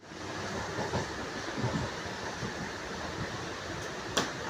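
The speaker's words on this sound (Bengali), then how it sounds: "এই ট্রেনটা ইএমইউ স্পেশাল, যেটা ব্যান্ডেল থেকে আজিমগঞ্জ পর্যন্ত যাবে" Inside a nearly empty moving EMU local train on the new Bandel to Azimgunj special service, a steady rumbling roar of wheels and carriage fills the cabin, with a faint clack and a brief sharp click near the end.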